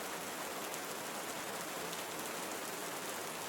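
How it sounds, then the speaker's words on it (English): Steady rain falls in a Costa Rican tropical rainforest, a dense, even hiss of drops on surfaces that holds constant and fairly soft throughout, with no voices. "The secret of the rain of the Costa Rican tropical forest to relieve tinnitus."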